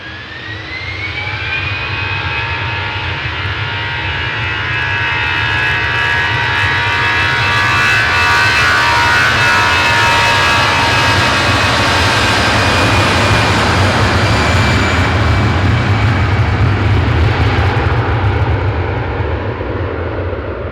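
A jet aircraft passing overhead, a loud sustained engine roar with a rising whine that swells toward the middle and end, heard alone.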